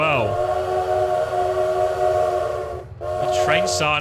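A train whistle sounds in a video game map: a long, loud, steady tonal blast held for nearly three seconds, then a brief break and a second rising whistle, with a loud tone throughout.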